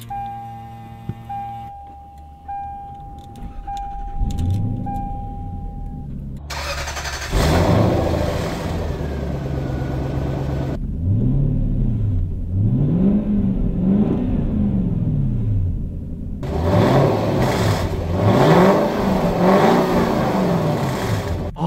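A 1998 Lexus GS400 sedan's engine starts and revs, then the car drives off on the road, gear changes rising and falling in steady sweeps, a loud close engine throughout.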